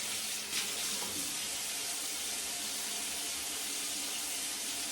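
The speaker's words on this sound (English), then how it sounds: "use warm water to damp my face" Warm tap water runs steadily into a sink during face washing, a continuous close hiss with no talking over it.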